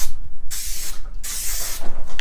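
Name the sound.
cooking spray sprayed on baking sheet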